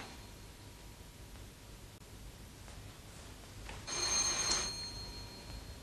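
A bell rings at the garden gate in a quiet interior, a short bright ringing burst in the middle of an otherwise hushed, hissy room with no talk.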